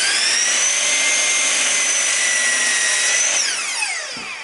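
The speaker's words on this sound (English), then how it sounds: "I'm going to cut this end off." A power saw cuts through the end of a wooden board in a woodworking shop, a loud steady whine held for about three and a half seconds that drops in pitch and fades as the cut finishes.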